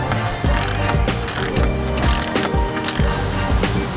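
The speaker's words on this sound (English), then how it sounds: "we're gonna torque this bottom lock nut to 80 foot-pounds" A wrench torquing a nylon lock nut on a Nissan 370Z's suspension to 80 foot-pounds: loud, repeated ratcheting strokes with rhythmic clunks about every half second, heard close up against a busy garage background.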